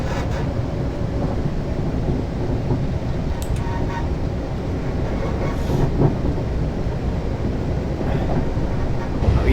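A passenger train in Train Simulator 2018 rolls steadily along the rails at about 85 mph between Portsmouth Harbour and Waterloo, a continuous loud low rumble with faint clicks and rattles throughout and no talking.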